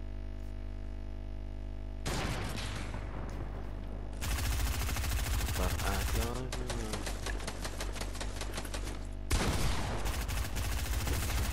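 Gunfire in a battle royale video game, with bursts of rapid automatic shots in several loud stretches broken by short gaps. Background tones play underneath and voices come in.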